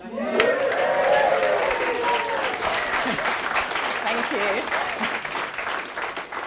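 A conference audience cheers and applauds after a talk, sustained clapping with a few raised voices and whoops rising over the crowd before easing off slightly toward the end.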